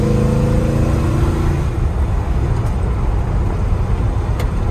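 1955 Chevrolet 3100 pickup truck fitted with a swapped LS Corvette engine accelerating on the road, a loud, close, continuous engine roar with the pitch sweeping low and steady and no talk over it.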